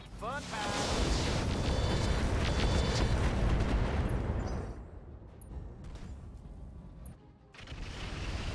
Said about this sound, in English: The Whitworth is firing on the mongoose